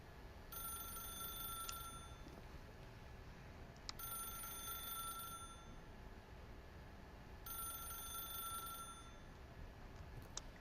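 A telephone rings in the video game The Stanley Parable, three evenly spaced bursts of bright electronic ringing over a faint, quiet room tone.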